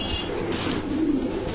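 A male pigeon coos nearby, a low, soft, rolling murmur that swells and fades across a couple of seconds in a quiet setting.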